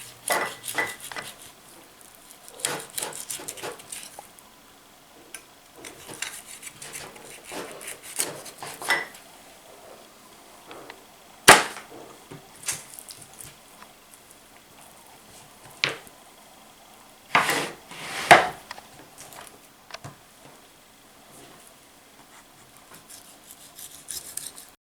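A blunt knife saws and scrapes through rabbit meat for a mustard rabbit dish, with irregular close scraping strokes, soft rubbing, and a few sharper clinks against a board or dish.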